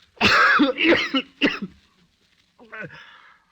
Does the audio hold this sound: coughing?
yes